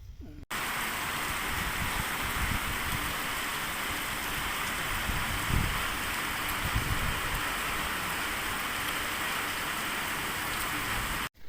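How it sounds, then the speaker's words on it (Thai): Steady, even rainfall in Korat, Thailand hisses throughout, with a few soft low thumps of drops hitting a nearby surface. "นั่นละพี่น้องเพิ่นว่าโคราชฝนตกแล้ว"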